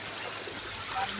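A strong river current rushes past in a steady, broad watery hiss. A voice talks briefly over the flow.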